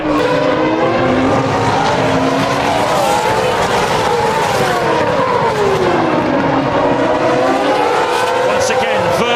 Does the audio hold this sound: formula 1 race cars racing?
yes